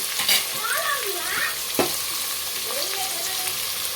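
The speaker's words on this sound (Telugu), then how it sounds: "ఇవైతే వేగుతున్నాయి కదా" Vegetables for a vegetable biryani fry in a pan with a constant crackling sizzle, broken by a few sharp clatters of stirring.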